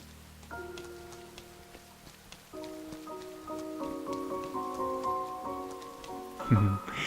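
Steady soft rain patter in the video game Rain, a constant faint hiss of drops beneath sustained piano and string music, with a low thump near the end.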